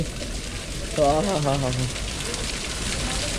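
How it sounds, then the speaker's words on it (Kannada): Steady rain falls along the Kedarnath trek, a constant broadband hiss lasting throughout, with a voice briefly speaking over it near the middle. "ಇಷ್ಟೊತ್ತು ಮಳೆ ನೋಡಿದ್ವಿ."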